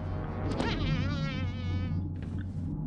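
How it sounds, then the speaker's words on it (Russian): In the Alien vs Predator 2 game, a fly buzzes close by with a wavering whine for about two seconds before it fades and a few faint clicks follow. "Это что, было муха?"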